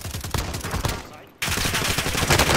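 Rapid bursts of video game gunfire in a squad battle, dense repeated shots across the whole span, briefly dropping before a loud renewed volley, with faint voice underneath.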